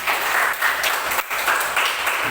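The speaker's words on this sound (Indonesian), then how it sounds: "Tepuk tangan buat kita semua." Classroom of students clapping together in a sustained burst of applause, loud and steady with no talk over it, at a Pancasila student session.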